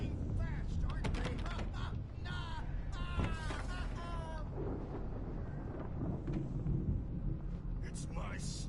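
Thunder rumbles and cracks through a storm in the video game Alan Wake, a steady loud roar broken by sharp crashes, with a voice talking over it at points.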